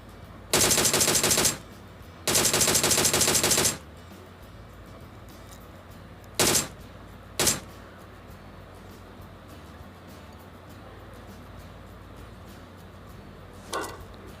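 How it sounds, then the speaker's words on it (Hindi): Automatic gunfire in the PUBG Mobile video game: two sustained bursts of rapid shots up close, followed by a couple of single sharp shots and a faint distant report near the end. "इन लोगों पे फायर करने के लिए ट्राई किया मैंने"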